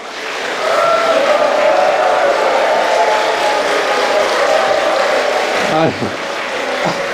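Applause welcoming guests from eighteen churches at a Presbyterian church revival seminar, a loud, continuous roomful of clapping that holds steady for several seconds and then drops off as someone begins speaking.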